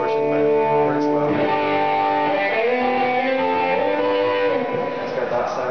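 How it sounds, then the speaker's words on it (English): An electric guitar played through an overdrive pedal, set to a bluesy tone with a lot of distortion, sustains bending chords and notes continuously and fairly loudly. "I call it my blues sound, but it's a little too much distortion"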